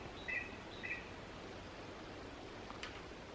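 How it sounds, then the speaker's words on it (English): Two short bird calls sound outdoors beside a driveway at a woman's camp, each a brief high chirp pair early on, with faint hiss and soft rustling filling the rest. "Did you hear that bird?"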